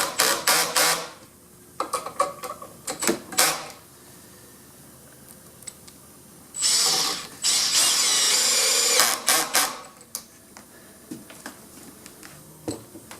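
A power drill drives screws into a wooden interior door jamb during reversible jamb kit assembly: two sustained whirring bursts mid-clip, close and loud, surrounded by scattered clicks and handling knocks.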